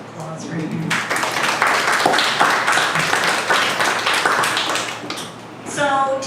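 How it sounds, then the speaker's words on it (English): Wedding guests applauding indoors at an evening reception, a dense, steady wash of claps from many hands that swells and holds for several seconds before tapering off near the end. "So give yourselves a round of applause"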